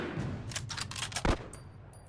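A quick burst of gunfire in The Last of Us Remastered, several rapid shots and then one sharper, heavier crack, fairly faint and with no talking.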